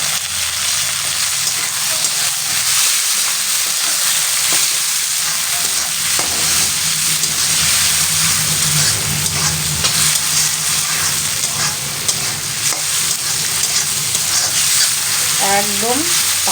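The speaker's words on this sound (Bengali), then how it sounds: "এবারে আদা রসুনটা একটু ভাজা ভাজা হয়ে গেছে। এবারে আমি এই যে টমেটো রেখেছিলাম, টমেটোগুলো দিয়ে দেবো।" Ginger, garlic and tomatoes sizzle and fry in a pan for potato dum, a loud continuous crackle with intermittent stirring scrapes, no voice over it.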